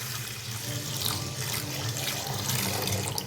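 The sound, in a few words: water poured into a pot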